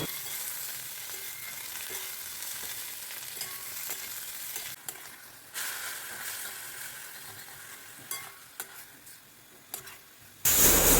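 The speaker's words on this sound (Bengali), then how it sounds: "এই পেঁয়াজ রসুন ভাজতে ভাজতে পটলটাও দিয়ে দিলাম, ওটাও একটু ভেজে নিই" Onion, garlic and pointed gourd frying together in a pan, steady close sizzling with repeated stirring scrapes and clatters, ending in a sudden louder burst of hiss, with no voices.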